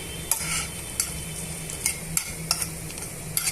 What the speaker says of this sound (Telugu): ఈ పోపు గింజలు అన్నిటినీ కూడా ఈ ఆయిల్లో వేసేస్తున్నాను ఇలా ఆయిల్లో వేసేసుకొని బాగా వేయించేసుకోవాలండి